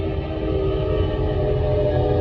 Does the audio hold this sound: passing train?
yes